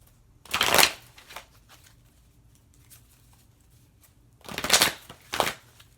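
Tarot cards being shuffled in two quick riffling bursts separated by a few seconds of near silence, close and crisp.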